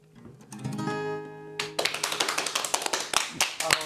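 After a sung phrase fades, a small studio audience breaks into sharp, close clapping that runs steadily to the end.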